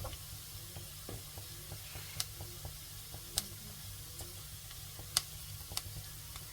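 Tomatoes sizzle quietly in a frying pan as they are stirred, a soft hiss broken by a few sharp clicks and taps of a utensil, no talk.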